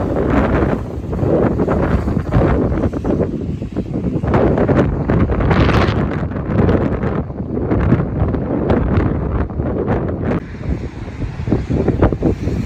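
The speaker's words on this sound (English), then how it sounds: "it is wet, it's windy, it's not the ideal weather to be outside in these cold temperatures" Strong gusting wind at Blackpool Pleasure Beach on a wet, cold winter day buffets the microphone in loud, rumbling surges that ease briefly near the end.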